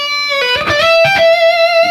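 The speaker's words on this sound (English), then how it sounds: "The same setup, and I'll throw in a distortion pedal." Electric guitar played through a distortion pedal, sustained driven notes and chords with bright harmonics, loud and close, no talking.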